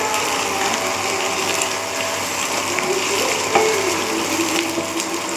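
Onions and garlic fry steadily in a pan, giving a continuous hiss and crackle with a brief scrape near the middle and no talking.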